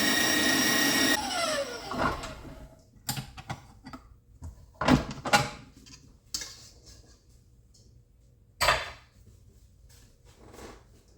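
An electric mixer beating cheesecake batter gives a loud, steady whir that cuts off after a moment, followed by scattered clunks, taps and scraping knocks in a quiet kitchen.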